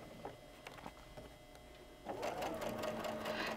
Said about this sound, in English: And it just eases in very nicely as we're stitching along.